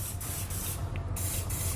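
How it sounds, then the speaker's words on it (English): General purpose lubricant hisses from an aerosol can into the weld nuts of a trailer hitch mount on a 2020 Honda Pilot, a close, steady spray in short bursts with brief gaps. "Just give those a good spray down."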